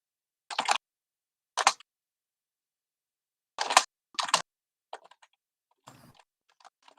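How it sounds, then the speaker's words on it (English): Clicks from a computer keyboard come in short, quiet bursts of typing separated by silent gaps, a few clustered keystrokes at a time, close to the microphone. "Can you mute your typing?"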